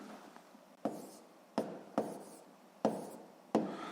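Hand writing numbers for a math exercise, pen or pencil scratching softly on paper with five sharp taps as digits and marks are set down, close and with no talk.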